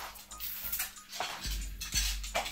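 Toy spoons and forks being handled, giving light clinking and tapping in a few separate clusters, close and fairly quiet.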